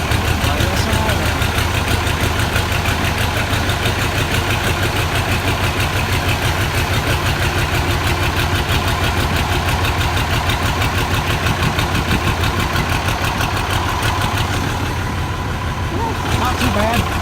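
A car engine idles after a cold start on a freezing day, a steady, loud, low rumble that runs unbroken throughout, with voices faintly present at times.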